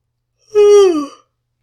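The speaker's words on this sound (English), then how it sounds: "Sorry for the yawning." A single drawn-out voiced yawn, close and clear, rising and then sagging in pitch for under a second. It is heard alone in a quiet room during a math lesson.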